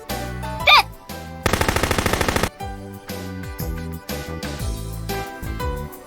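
A full-auto rifle fires at a 100-meter target in an anime shooting-range scene, with a dense, rapid burst of loud shots lasting about a second, surrounded by dramatic music and other effects.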